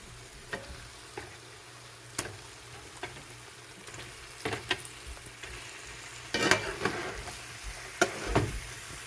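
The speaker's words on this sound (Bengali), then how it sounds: "আমি চিকেনগুলো দিয়ে এভাবে ভালো করে নেড়ে নিয়েছি" Chicken leg pieces stirred through spice paste in a pan, soft sizzling under repeated scraping strokes of a spoon, irregular knocks that grow busier toward the end, close up with no voices.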